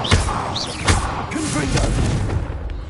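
Bombarda blasting spell exploding in the Hogwarts Legacy video game, heard as a pair of thumping booms inside dense game sound, with music and effects running continuously.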